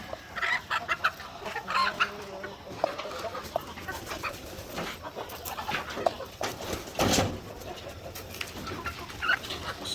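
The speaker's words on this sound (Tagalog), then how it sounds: "Ito yung white leghorn na rooster." Several chickens, including a White Leghorn rooster, cluck and chatter close by, with scattered squawks and pecking noises over a quiet farmyard background.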